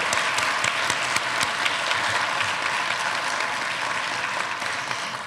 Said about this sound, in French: on peut les applaudir davantage